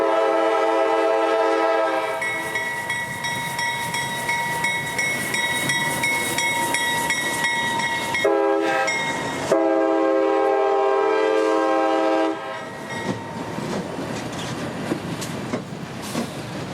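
A Tampa IO-44 intermodal freight train rolls out with a loud, sustained horn chord blasting over steady rumbling and rail clatter, the horn cutting out briefly, then the clickety-clack of wagons continuing alone.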